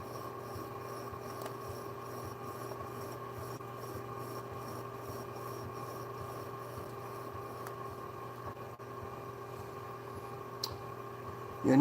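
A pottery piece being trimmed gives a soft, continuous rubbing and scraping rasp, low and steady under a faint electrical hum, with a few light clicks near the end.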